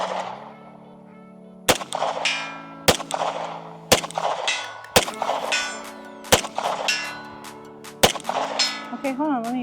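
A Kimber 2K11 pistol fires about eight spaced shots at steel targets 100 yards downrange, each sharp crack followed by a faint metallic ring of the plate.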